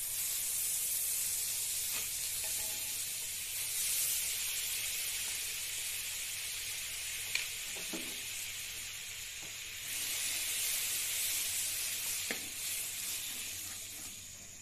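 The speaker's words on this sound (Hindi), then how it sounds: "मिल्क के साथ इसको बॉयल होने दूंगी" Carrots simmering with milk and sugar in a pan for gajar halwa, a steady soft hiss and bubbling sizzle throughout with faint scraping clinks, close and fairly quiet, no voices.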